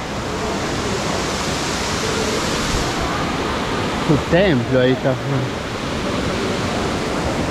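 A waterfall roars as a loud, constant broadband rush, with a person speaking briefly over it partway through.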